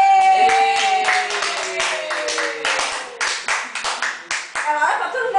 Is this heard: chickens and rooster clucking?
no